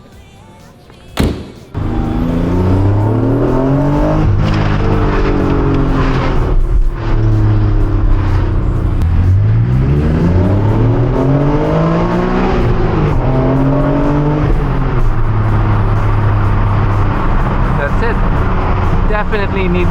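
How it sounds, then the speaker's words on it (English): A Honda (Acura) NSX sports car engine rises and falls through the gears, revving up repeatedly while driving, loud and close, after a brief knock at the start. "Okay, road test. Sound check. Sounds like a Honda."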